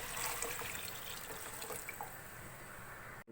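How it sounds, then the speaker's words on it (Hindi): Water pours steadily into a cooking pot of moong and masoor dal, a continuous broadband splashing rush that holds for about three seconds and then cuts off abruptly. "हम इसके अंदर 3 से 4 गिलास पानी ऐड करेंगे"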